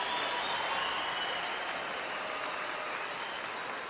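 A hometown crowd in Swift Current, Saskatchewan applauds at the 2016 World Women's Curling Championship, a dense steady wash of clapping that holds evenly throughout and fades slightly at the end.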